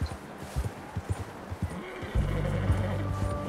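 A horse in the video game Red Dead Redemption II whinnies as it is petted, a soft drawn-out neigh following a few light thuds and hoof clops, fairly quiet.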